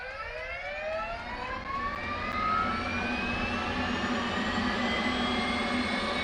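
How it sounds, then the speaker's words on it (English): The auxiliary power unit of an F/A-18 Hornet starting up in the DCS flight simulator, a jet turbine whine rising steadily in pitch over a constant roar, loud and sustained. "Now we'll turn on the APU, and here's where the sound of this thing."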